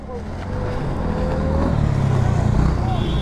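A KTM RC 200 sport motorcycle pulls a wheelie nearby, its engine holding a loud, steady drone that rises slightly in pitch, with wind noise and faint voices in the background.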